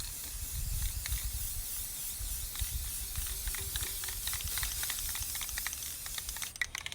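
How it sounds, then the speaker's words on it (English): A spray paint can sprays off to the side to clear its nozzle, a steady broad hiss with faint rattly, clicking textures throughout, close and continuous without any talking. "I kind of spray off to the side a little bit, which clears out your nozzle"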